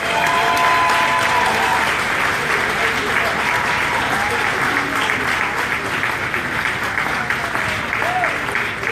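A festival audience at the Niagara Falls Elvis Festival claps loudly and continuously, dense applause filling the space with faint crowd voices mixed in.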